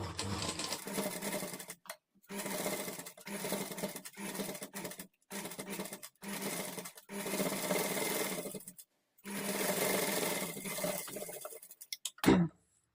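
Sewing machine with a normal presser foot stitching invisible thread piping, running in repeated bursts of steady mechanical whirring separated by short pauses, close and fairly loud, ending with a few sharp clicks.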